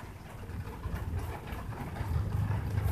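An engine runs at a steady, moderate idle, with a low rumbling throb that swells slightly toward the end, with no talk over it.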